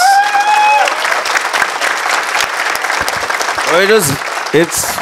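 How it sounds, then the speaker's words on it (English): Audience at a round table session applauding the panelists, a loud sustained burst of clapping that carries on under a voice speaking over it. "all of the panelists deserve a hearty applause, please"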